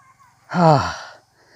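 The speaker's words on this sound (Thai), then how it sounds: "เสียงหอบ" A single heavy, breathy exhale or gasp from someone worn out from digging up an ebony tree (ตะโก) by hand outdoors, a close, loud rasping pant lasting under a second amid quiet.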